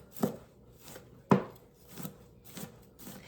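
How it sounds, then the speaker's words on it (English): A knife chops small garlic cloves on a board with about six distinct, fairly quiet chops at an uneven pace, one noticeably sharper than the rest. "I do have a garlic press, but I don't mind chopping it"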